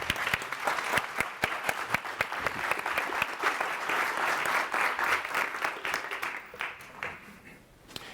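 An audience applauds warmly to welcome Father Bryan Massingale before his talk on unconscious racial bias, dense steady clapping from a large crowd that holds for several seconds, then thins and fades.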